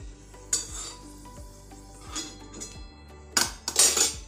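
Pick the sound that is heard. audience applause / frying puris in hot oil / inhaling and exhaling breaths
frying puris in hot oil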